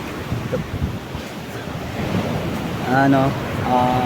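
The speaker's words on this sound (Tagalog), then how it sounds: "Napakalakas ng alon. Talagang hahampasin ka pag maliligo ka." Strong ocean waves roll and crash on a hotel beach under heavy wind buffeting the microphone, a loud, continuous wash of surf and gusts, with a voice briefly audible partway through.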